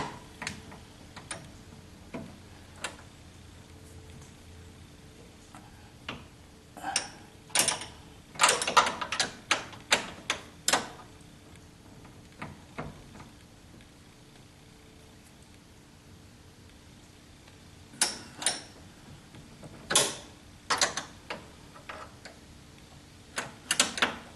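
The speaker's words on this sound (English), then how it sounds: "hold the fitting with one wrench and tighten it with the other" Wrenches tightening a transmission cooling line fitting on a 1976 Corvette restomod, heard as scattered sharp metallic clicks and ticks, some in quick clusters, close by against a quiet background with no speech.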